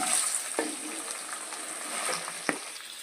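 Dried prawns frying in a pan with onions and green chillies, a steady close sizzle with a couple of sharp stirring clinks and scrapes.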